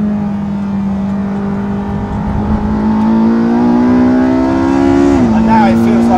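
A Porsche 918 Spyder in hot laps mode accelerates hard, its engine note climbing steadily in pitch before a quick dip at a gear change and another rise, loud and close, with a voice talking over it.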